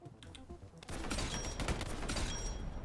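Rapid bursts of video game gunfire, a dense rattling volley of shots that kicks in after a quieter opening and keeps up steadily, fairly close but not very loud.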